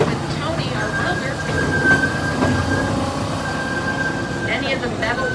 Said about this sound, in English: this is Emmett, our red train, pulling us along today